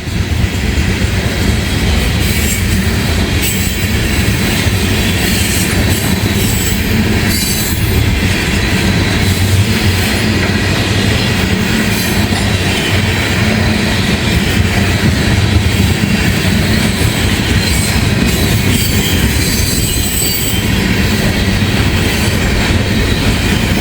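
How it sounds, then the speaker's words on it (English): A long loaded ethanol freight train with no buffer car on the end rumbles past close by, with steady heavy wheel noise, metallic squeals and rail clatter that continue throughout without any voices. "Haven't seen a loaded ethanol train in a while."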